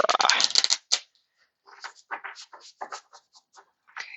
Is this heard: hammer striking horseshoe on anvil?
no